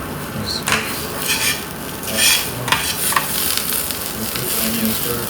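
Onions frying in a pan in a makeshift studio-apartment kitchen, a loud continuous sizzle broken by scraping stirs and a few sharper clicks of utensil against pan, with no one talking.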